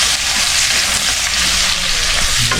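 Ginger sizzles in hot oil in a pan while preparing buro, a steady loud crackling hiss with light stirring, close by and uninterrupted by talk.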